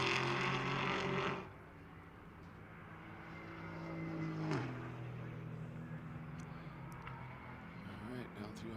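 A Flying Lizard Porsche 718 Cayman GT4 race car roars loudly at first, then falls away to a distant drone that swells and fades as engine notes shift, under a commentator's talk.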